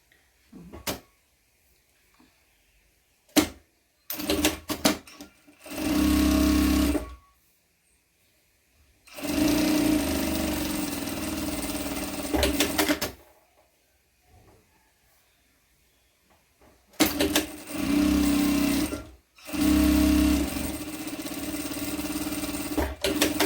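A sewing machine stitches the sides of an embroidered cloth diaper in several loud, steady runs of a few seconds each, separated by short pauses with small clicks and handling noises.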